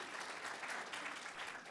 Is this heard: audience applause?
yes